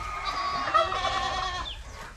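Goats on a farm in Batangas bleat in a dense, overlapping chorus of nasal calls that runs steadily through the clip at close range, with no talking.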